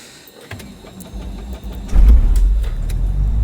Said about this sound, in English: Now we open the throttle just half an inch and we try to start the engine.